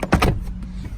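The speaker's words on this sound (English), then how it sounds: "Just give the seat a pull, and then the same on the other side here." A quick mechanical clunk and scrape of a Vauxhall Zafira rear seat being pulled up, followed by a faint low hum, close up and brief.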